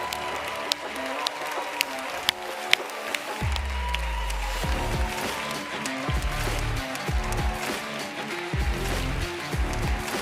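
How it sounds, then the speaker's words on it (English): An audience at the European Greens congress in Lyon gives steady, dense applause that holds for about ten seconds, with voices and low rumbling running beneath it. "ask you to applaud them"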